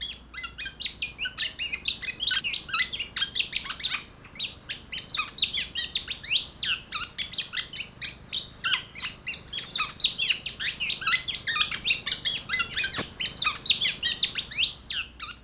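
Black-naped orioles chirp and call continuously in rapid, repeated bursts, fairly close, with no talking.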